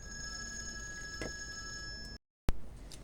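A mobile phone rings briefly during a lecture, its steady high electronic tones running for about two seconds and cutting off abruptly, followed by a short sharp click amid faint room noise.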